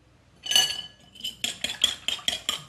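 Egg and milk being mixed in a dish with a utensil, a scrape followed by a steady series of rhythmic clinking strokes against the dish, close and clear with no talk.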